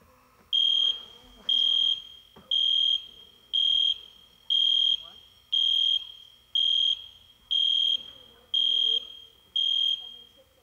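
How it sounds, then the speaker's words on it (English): A building fire alarm, set off by a tripped wire during roof work, beeps in a steady series of about ten loud, evenly spaced high tones during a meeting, with faint background noise between beeps. "They're doing work on the roof and they tripped a wire, so that explains the fire alarm."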